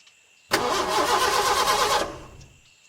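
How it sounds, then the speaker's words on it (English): A car engine cranks as the key is turned, a dense mechanical whirr lasting about a second and a half before it cuts out and fades away without settling into an idle, over a faint steady tone. "But when Dan turned the key, nothing happened. The car didn't move."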